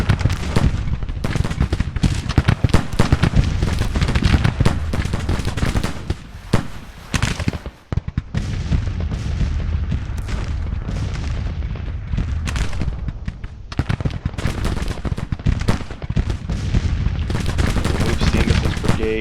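Civil War musket volleys and artillery in the strategy game Grand Tactician, a dense, loud, continuous crackle of massed gunfire with booming shots and a brief lull midway.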